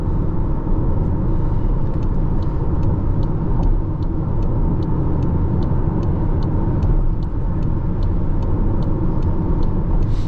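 A 2024 Skoda Superb 1.5 hybrid cruising on a highway, heard from inside as a loud, steady low engine and road rumble with a faint regular ticking over it, continuous and without talking.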